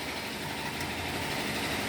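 A vehicle engine idles steadily at close range, a dense continuous rumble with no talk, during a check of the brake fluid reservoir.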